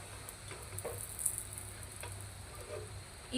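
Snacks frying in oil until brown, a quiet continuous sizzle close by with a few faint ticks and light clicks scattered through it, and no voices.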